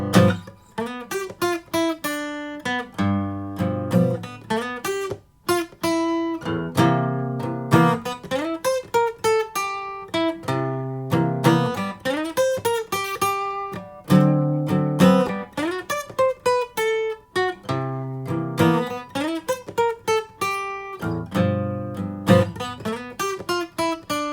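An acoustic blues guitar works through a beginner exercise over the 1, 4 and 5 chords, mixing strummed chords with single-note licks in a loose, steady rhythm, played alone and close.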